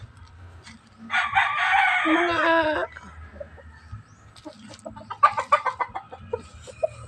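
Chickens cluck and a rooster crows nearby at a koi, goldfish and tilapia fishpond farm, with a loud crow near the start followed by scattered clucking and brief talk in the background.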